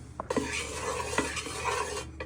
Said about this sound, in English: You give that a stir